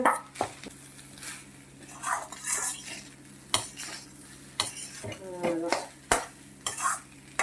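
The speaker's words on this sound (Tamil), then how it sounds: "அந்த சாதத்தை நம்ம வந்து போட்டு அப்படியே கிளற வேண்டியதான்." Cooked rice is stirred into an egg mixture in a pan for egg rice: a spoon scrapes and taps in a repeated rhythm over a faint sizzle, close up, with no talking.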